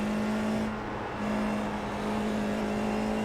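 A Formula 4 race car in the iRacing game at Suzuka accelerates out of a corner, its engine a steady loud drone with a sustained tone throughout, no talking.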